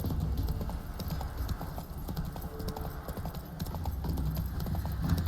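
Horse hooves clip-clop steadily through The Witcher 3 open world as the rider travels, a continuous rhythmic stream of hoofbeats at moderate loudness with faint ambient game sound underneath.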